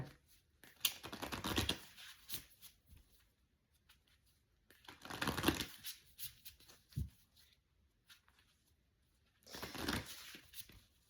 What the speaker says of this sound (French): On va d'abord tirer une carte